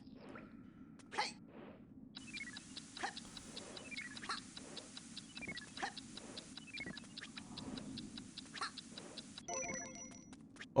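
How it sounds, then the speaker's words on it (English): Steady clock ticking from a classic PC video game, a continuous rapid tick rhythm running for most of the clip with faint background noise and a few brief higher chimes. "What was the ticking thing for?"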